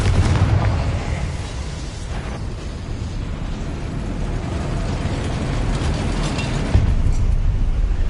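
A Confringo fire blast spell cast in the video game Hogwarts Legacy, a loud booming explosive burst with crackling rumble that sustains for several seconds, with a sharp extra pop near the end.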